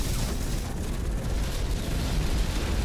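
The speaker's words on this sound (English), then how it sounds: "Oh, you see those explosions?" Loud, continuous rumbling booms of explosions in the mech combat video game Hawken, with dense low-end roar sustained throughout and no clear gaps.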